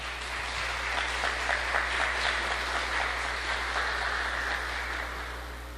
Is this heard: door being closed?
no